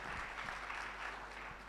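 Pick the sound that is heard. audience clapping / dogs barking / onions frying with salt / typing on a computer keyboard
audience clapping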